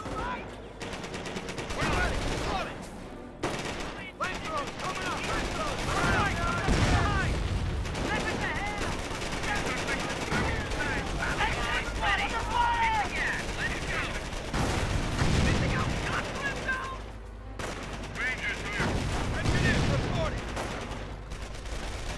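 Gunfire and machine guns in the World War II strategy game Company of Heroes rattle in repeated bursts with booms, layered under spoken unit voice lines.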